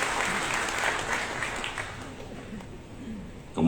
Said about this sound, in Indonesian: Kita berikan aplaus adalah kader Nasdem